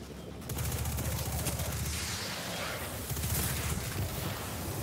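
Rapid, continuous automatic gunfire with volatile explosive rounds in the video game Destiny 2, a dense steady stream of shots with bursts of impact noise throughout, fairly loud.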